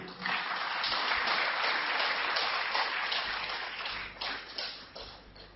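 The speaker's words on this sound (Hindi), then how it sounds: "मेरी गुजारिश है कि आप जोरदार तालियों से उनका स्वागत करें।" Audience at a Hindi health talk breaks into loud, sustained clapping to welcome the speaker, a dense wash of applause lasting several seconds before thinning toward the end.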